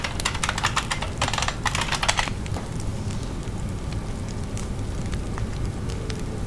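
Keystrokes on a computer keyboard, a dense burst of rapid clicks over the first couple of seconds and then scattered single taps over a steady low background hum.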